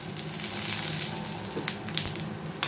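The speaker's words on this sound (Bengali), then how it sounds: "এবার এই ছোট ছোট বড়িগুলো ভেজে নেবো।" Small black gram lentil dumplings (bori) fry in hot oil for spinach ghonto, giving a steady, close sizzling hiss with occasional crackles and pops and no talking.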